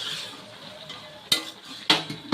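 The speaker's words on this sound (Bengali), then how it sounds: "আবারও আমি এটাকে ঢাকা দিয়ে দিচ্ছি।" A lid is set onto a cooking pot of vegetables with stalk and leaf greens, two sharp metallic clanks cutting through a soft background sizzle, close and fairly loud.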